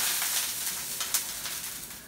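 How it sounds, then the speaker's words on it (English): Dosa batter sizzles on a hot pan, giving a steady broadband hiss with a few brief crackles, heard alone at moderate loudness. "It's hot. That's why it's sizzling. The pan is sizzling."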